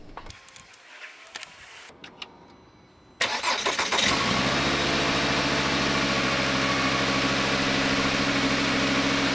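After a quiet stretch with a few clicks, a car engine cranks briefly and then catches, boosted by a DeWALT DXAE20VBBK 20V battery booster, and settles into a loud, steady idle close by.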